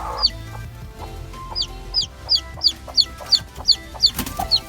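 Newly hatched chicks peeping in a rapid series of high, thin chirps that grow more frequent toward the end, close by, over faint background clucking and household noise.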